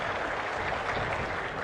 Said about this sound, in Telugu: గట్టిగా చప్పట్లు కొట్టి చేసిన దానికి అభినందిద్దాం